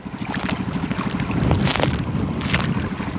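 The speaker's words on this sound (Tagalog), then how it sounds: "lakas ng hangin amihan" Strong amihan wind buffets a fishing boat out at sea, a loud rushing roar with rhythmic engine thrum underneath and gusts swelling midway.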